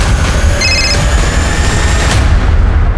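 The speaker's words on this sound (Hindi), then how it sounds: "अरे आपके घर में ब्लास्ट हुआ है।" Blast in a house, a loud, dense roar of boom and crackling debris filling the whole stretch, with brief ringing tones near the start before it tails off.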